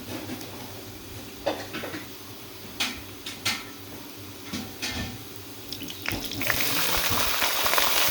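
Water is poured into a pot of golden fried rice for a mixed vegetable pulao, a faint wash of pouring that builds into a steady louder rush over the last two seconds, with a few clinks and knocks beforehand.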